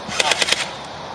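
Toy Nerf guns fire in a quick burst of four or five sharp pops, close by and evenly spaced, followed by a short fading tail.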